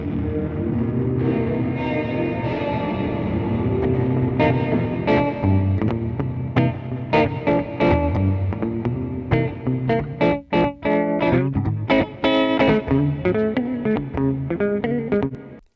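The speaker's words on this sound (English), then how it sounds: "this is a long reverb" Distorted, effected instrumental music drenched in a long reverb from a Slate VerbSuite Classics plugin, loud and dense, with notes smearing into a sustained wash and a few sharp hits trailing off late.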